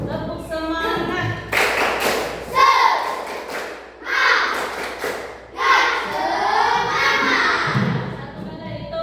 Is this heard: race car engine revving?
no